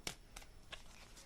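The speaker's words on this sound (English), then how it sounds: "Last shuffle." Tarot cards being shuffled by hand in a few quick riffling bursts, soft and close, with short pauses between them and no talking.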